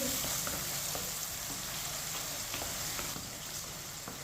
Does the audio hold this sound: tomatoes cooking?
yes